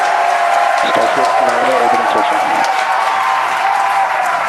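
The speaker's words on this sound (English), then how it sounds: "As you heard there, by the call out and from the crowd behind us" A crowd cheers and applauds at a Starship rocket launch, a steady wash of distant cheering with a voice talking over it throughout.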